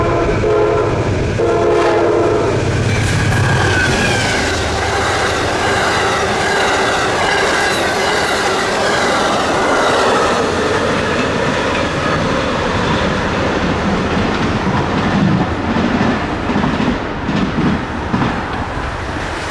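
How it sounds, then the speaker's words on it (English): Amtrak Palmetto passenger train number 89, southbound, passes close and loud with a sounding horn, rumbling wheels and rhythmic clickety-clack over the rails, no voices. "Our first train is Amtrak Palmetto number 89, headed southbound to Savannah,"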